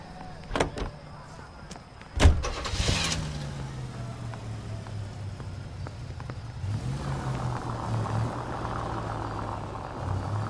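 Nash automobile in the L.A. Noire video game, its engine a steady low rumble running throughout, with a door thud and a few sharp clunks near the start and a brighter engine note building toward the end.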